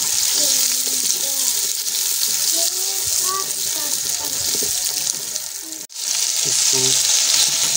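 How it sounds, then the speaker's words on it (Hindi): Carrots, peas and potatoes frying in a pan for vegetable pulao, giving a steady loud sizzle with light stirring and scraping throughout, a brief dip near the end before the hiss resumes. "1 मिनट के लिए भून लेंगे। साथ इसमें गाजर ऐड करेंगे, मटर ऐड करेंगे,"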